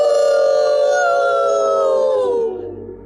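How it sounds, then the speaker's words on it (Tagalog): Loud, sustained howling of wild dogs deep in a forest, one long wavering howl with overlapping voices that slowly falls in pitch and fades out near the end, with no talk. "Sa malalim na bahagi ng kagubatan, maririnig ang malakas na ungol ng mga asong gubat."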